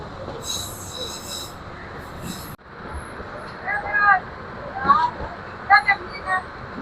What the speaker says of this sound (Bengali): আমাদের ট্রেন এখন প্রবেশ করলো কাকিনা রেলওয়ে স্টেশনে।